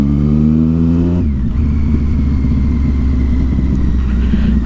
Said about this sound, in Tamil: நான் ஓட்டலைன்னா கூட இங்கே சவுண்டு வருதுடா சாமி, இந்த எக்ஸாஸ்ட்டு.